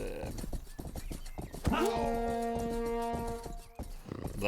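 A horse in a video game with mounted combat gallops with steady clip-clop hoofbeats, then lets out a loud rising whinny that holds for nearly two seconds before fading under the ongoing hooves.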